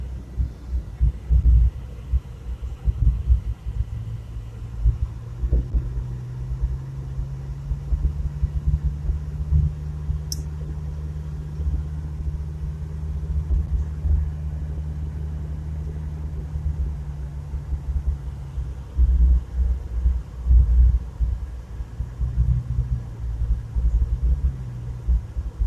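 Chevrolet Chevette engine idling and pulling during a ride-along, a steady low throbbing rumble with a sustained hum that rises and falls with the throttle, close and loud throughout, with a small vacuum leak.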